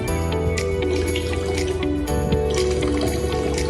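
Water streams steadily from an Arduino-built smart shower driven by a DC pump, a constant hiss and splatter with an electric hum beneath it, loud and close with no voices.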